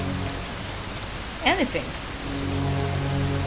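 Rain falling in the video game Far from Noise, a steady hiss of drops on a surface throughout, briefly under a short spoken exclamation.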